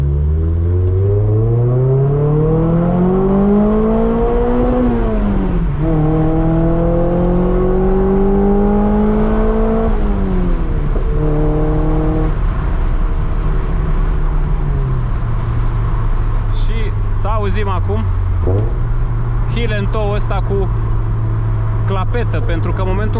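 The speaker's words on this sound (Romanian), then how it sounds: "în momentul în care apeși clapeta, pufă într-un mod foarte drăguț" A 1993 Toyota MR2 engine revs up and down in repeated climbing pulls, then settles to a steady idle broken by quick puffing throttle blips, loud and close from start to finish.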